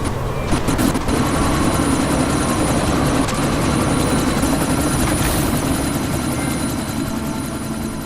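Helicopter rotor thumping steadily under gusting wind in the PS4 game Deus Ex: Mankind Divided during a sandstorm, a loud, continuous drone with no talking.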